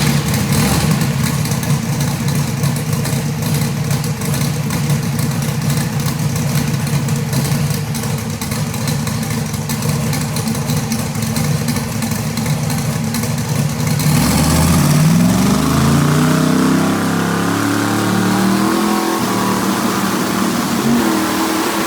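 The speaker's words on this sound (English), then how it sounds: "Now we're going to get serious and start the dyno off the trans brake." Billet Hemi engine on a dyno, idling with a rough, pulsing rumble before launching off the trans brake into a rising, loud revving sweep that climbs and falls.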